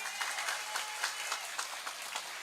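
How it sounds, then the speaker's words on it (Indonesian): At an afternoon Islamic study gathering, the audience breaks into a brief round of applause, scattered hand claps rising and falling at moderate volume, with no talking over them. "Tepuk tangan malih"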